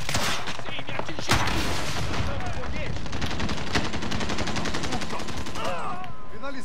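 Dense, continuous gunfire from the Call of Duty Modern Warfare video game, rapid automatic bursts and loud shots filling the whole stretch, with a player's voice talking over the action.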